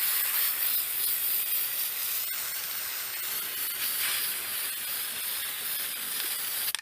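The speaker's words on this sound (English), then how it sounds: "I'm going to spray paint it black because that's what I have." Black spray paint hissing from an aerosol can onto an orange juice container, a steady close hiss running for several seconds with slight swells and no talk.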